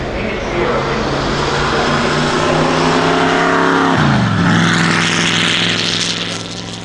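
A loud supercharged 3.2-litre straight-eight engine of an Alfa Romeo P3 Tipo B racing car roars past close by, its pitch dropping sharply as it passes, then revving harder as it pulls away.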